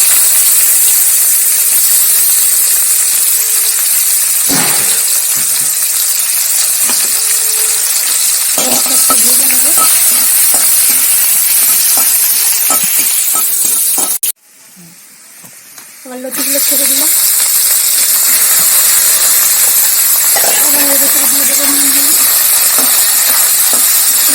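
Sliced onion and nigella seeds sizzle steadily in hot oil in a pan, a loud continuous hiss broken by scraping stirs, a brief lull as the heat drops, then the sizzle surging back, with a voice speaking over it.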